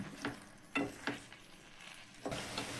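Tomatoes and tamarind stirred together in a pot: a few faint, separate scrapes and soft swishes of a spoon, fairly quiet and close, with no talking.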